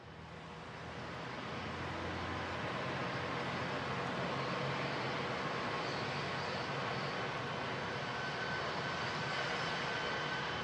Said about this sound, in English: Scott Kelly in the NASA plane taxiing on the runway now down at Ellington